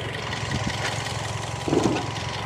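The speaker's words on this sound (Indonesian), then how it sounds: "dipencet di start-stop engine keyless-nya, dan mobil ini langsung nyala secara otomatis" Toyota Vios Limo Gen 3 2014 engine, tuned up, idling steadily after a keyless push-button start, a close, even low hum with a slight rise near the end.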